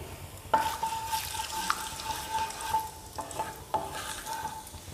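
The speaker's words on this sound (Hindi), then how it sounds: "हल्का सा तड़का लेंगे इसको" Cumin and asafoetida sizzle and crackle quietly in hot oil, with light stirring clicks and a faint steady hiss.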